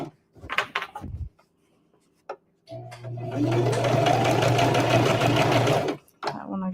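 An electric sewing machine stitches a Christmas stocking in one steady, whirring run of about three seconds, close and loud, with handling knocks and a voice before and after.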